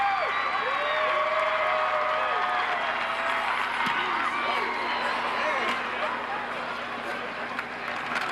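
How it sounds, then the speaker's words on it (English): A large stadium crowd roars and cheers at a Vanderbilt versus Missouri college football game, a continuous wash of distant noise under a commentator's steady talk throughout. "You can hear the crowd"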